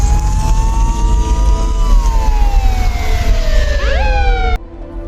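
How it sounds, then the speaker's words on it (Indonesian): A police car siren wails loudly nearby as the car arrives, its tone sweeping down and then jumping up over engine rumble before cutting off abruptly. "Terdengar sirine polisi datang."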